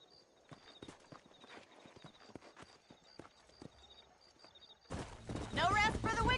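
Horse hooves clip-clop in a steady rhythmic gallop in the Red Dead Redemption video game, moderately near, before a voice starts talking over louder game sound at the end.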